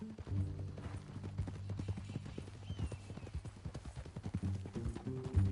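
Horse hooves clip-clop at a steady walking rhythm on a ride in Red Dead Redemption 2, soft and moderately close, with faint background music and no talk.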